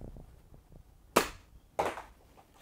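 Two sharp pops from a Nerf Modulus Barrelstrike blaster firing foam darts, spaced about half a second apart, close and loud against a quiet room with faint clicks before them.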